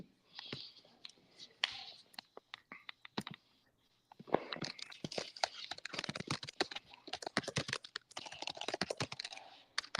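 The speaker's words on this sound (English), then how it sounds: "we can And hear you typing." Rapid clicking of computer keys being typed on, with irregular bursts and brief pauses, close and fairly quiet, with no talk over it.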